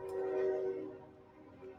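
A train horn sounds as a meme effect, one sustained tonal blast that swells loud and then fades into a softer rumbling tail, with no talk over it.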